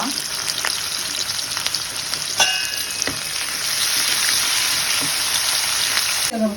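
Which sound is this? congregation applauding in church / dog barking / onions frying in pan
onions frying in pan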